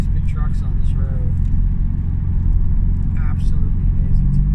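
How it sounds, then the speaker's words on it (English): Big trucks drive along a road in a steady, loud low rumble of traffic heard from inside a vehicle, with a person talking over it. "Wow, all these big trucks on this road,"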